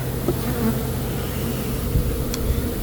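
Honey bees buzz densely and steadily at close range around a beehive, a continuous, even drone with no voices over it.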